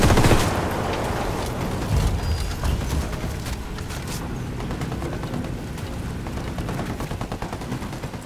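A frag grenade explosion followed by sustained gunfire in the Ghost Recon Wildlands video game: a loud booming burst at the start giving way to dense, continuous rattling fire that carries on steadily.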